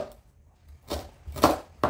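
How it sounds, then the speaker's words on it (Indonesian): A knife cuts galangal, ginger and garlic on a cutting board while spices are prepared for pepes ikan mas, with a few separate close chops at uneven intervals after a quiet pause. "tujuannya semua kita iris-iris ini supaya nanti ngeblendernya dia bisa halus ya"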